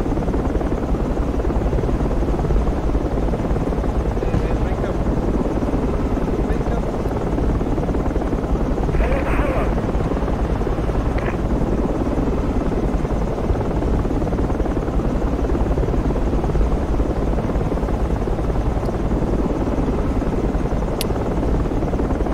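Helicopter in the Project Reality military game, a steady loud rotor drone and engine whine filling the whole stretch with no letup, dense and close, with faint game noises flickering underneath.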